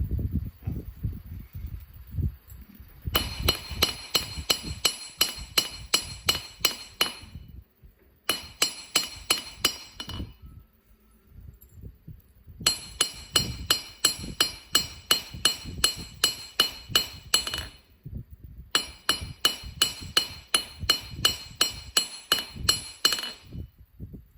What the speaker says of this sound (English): hammer the edge opposite of the one near the tip